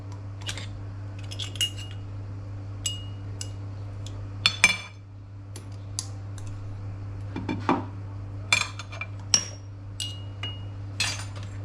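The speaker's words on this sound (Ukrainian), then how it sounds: "І тепер додаємо часник, який зараз будемо чавити через чеснокодавку" Garlic cloves pressed through a metal garlic press in a home kitchen: a series of sharp, sparse metallic clicks and clinks over a steady low hum, with no talking.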